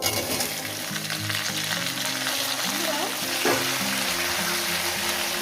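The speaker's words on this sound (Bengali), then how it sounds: "কাঁচা লঙ্কা আর জিরে ফোড়ন দিয়ে দিলাম" Green chillies and cumin seeds sizzle as they drop into hot oil for a tempering, giving a steady crackling hiss that runs throughout over a low tonal melody in the background.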